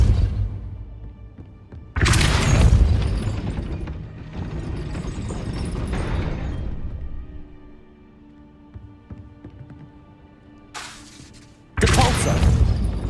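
Spell effects cast over and over in Hogwarts Legacy, loud bursts with booming, shattering impacts, a quieter mechanical stretch between them and a sharp final burst.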